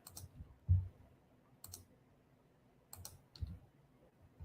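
Several sharp computer clicks while a trading chart is edited, with one louder thump near the start and widely spaced, moderately loud clicks at irregular intervals over a quiet background, consistent with a mouse selecting an item and a delete key press.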